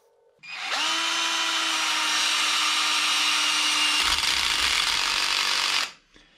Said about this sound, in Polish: w ogóle nam się zatrzyma ta wkrętarka przy wkręcaniu takiego wkręta